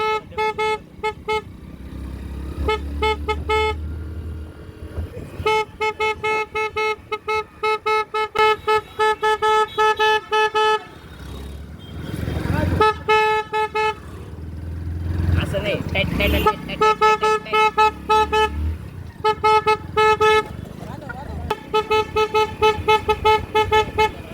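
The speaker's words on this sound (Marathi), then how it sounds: "आमच्या गाडीचा हॉर्न वाजतो आहे" Car horn honking in repeated short bursts and longer blasts, loud and close, with vehicle engine noise between and a voice talking at times.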